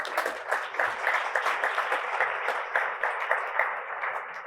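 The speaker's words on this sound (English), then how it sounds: "that deserves a round of applause." Audience applause at a Columbus Metropolitan Club community forum, a steady wash of many hands clapping in a large room, moderately loud and continuous, with no talk over it.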